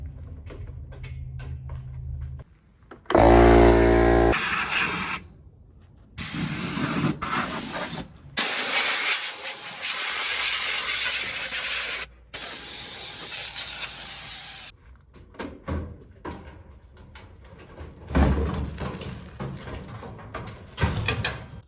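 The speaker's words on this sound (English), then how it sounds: "Get the compressor fired on." An air compressor blows bursts of air to clean a used appliance, loud hissing blasts of varied length separated by short pauses, close and without talk.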